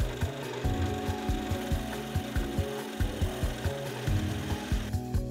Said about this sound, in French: je perce donc au niveau des yeux et des oreilles